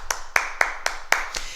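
Participants in a martial arts karate class clap for themselves, about six distinct claps at an uneven beat, close and fairly sharp, rather than a full crowd ovation.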